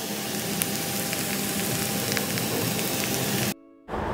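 Onion, garlic, ginger and green chillies frying in a pan, a steady dense sizzle and crackle running close and loud for several seconds before cutting off abruptly near the end.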